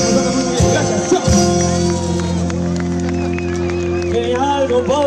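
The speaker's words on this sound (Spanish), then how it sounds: "Fuerte, fuerte ese aplauso" Live crowd at a beach bonfire festival gives a band an ovation, with dense clapping and cheering close by, mixed with music and voices throughout.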